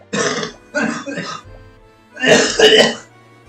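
Someone clears their throat and coughs in three rough bursts, close and loud, with brief pauses between them and the last burst the longest and strongest.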